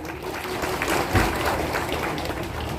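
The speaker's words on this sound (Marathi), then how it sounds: "तुम्ही स्वतः जोरदार टाळ्या वाजवाव्यात" An audience at the inauguration of a Nayara petrol pump claps in a steady, dense burst of applause that lasts a few seconds without a break.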